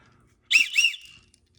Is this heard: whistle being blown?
yes